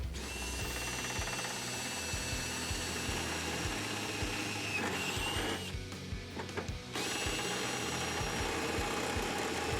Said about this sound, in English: use that same drill bit to drill out that hole